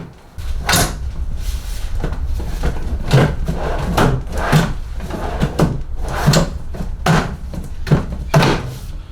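Wooden drawers on a record player stand are shoved onto their rails, producing a string of close, loud thunks and knocks with sliding scrapes between them, repeated in an uneven rhythm.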